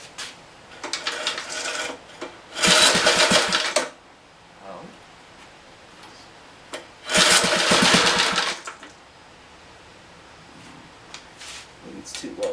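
A Briggs and Stratton small engine with bad points and no spark is pull-started and catches for two short, loud bursts of running about five seconds apart, each dying out into quiet between attempts.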